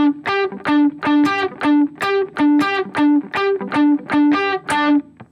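Worship electric guitar part with the reverb removed and delay still on, two alternating notes picked in an even rhythm with short echoing repeats, loud and close, no voices.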